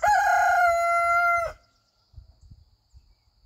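A rooster gives one loud, close cock-a-doodle-doo crow lasting over a second, followed by quieter low clucking and shuffling.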